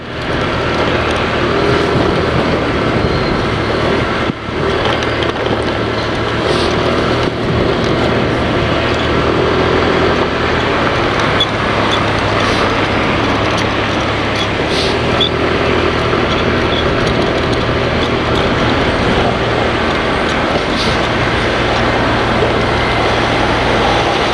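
Heavy 10-wheeler trucks rumble steadily past on a city road near Ayala Boulevard in Manila, a loud continuous low engine drone with road noise and no pauses throughout.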